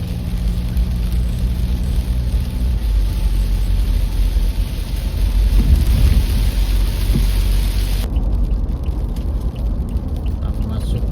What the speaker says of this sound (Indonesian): tapi cuaca hujan